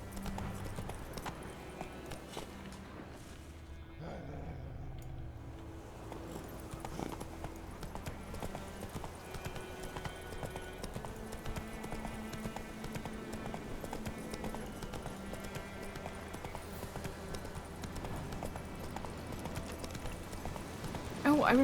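A horse's hooves clip-clop at a steady walking rhythm through a swamp in The Witcher 3, fairly quiet beneath game music and ambience, with someone talking over it.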